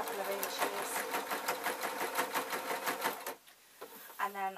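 A sewing machine stitches a waistcoat seam in a fast, steady mechanical chatter for about three seconds, then stops, and a short final burst of stitching follows.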